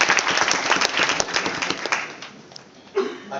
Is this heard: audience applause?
yes